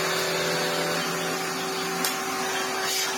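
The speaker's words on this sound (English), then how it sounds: "all of a sudden we have a cylinder vacuum cleaner" A cylinder vacuum cleaner, converted from an upright by attaching its hose, runs close and loud with a steady, unbroken motor whine and airflow roar for the whole stretch.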